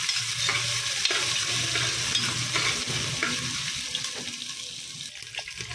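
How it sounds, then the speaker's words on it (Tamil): Ginger sautéing with pepper and cumin in a home kitchen pan, a close, steady sizzle with scraping stir strokes and some running-water noise in the background, no talking. "கொஞ்சம் இஞ்சி வறுத்துட்டு இதையும் போட்டுடலாம். போட்டு நம்ம நல்லா இதை வதக்கிடலாம்."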